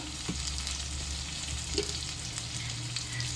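Garlic cloves and coriander stalks sizzle in hot oil in a pan for paneer butter masala: a continuous close crackling hiss with a few sharper pops, and no voices.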